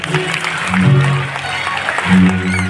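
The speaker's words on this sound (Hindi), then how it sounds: "जोर से ताली बजाएंगे।" An audience at a devotional recitation of Sita's swayamvar claps loudly, a sustained wash of applause that swells twice and mixes with voices.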